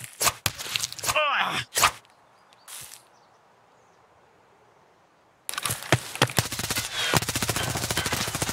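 Gunfire in the video game Escape from Tarkov: a quick burst of sharp, loud shots at the start, then another isolated shot, followed by a long quiet stretch before footsteps and rustling movement pick up.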